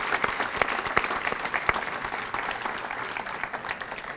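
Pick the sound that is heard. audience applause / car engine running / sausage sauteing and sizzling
audience applause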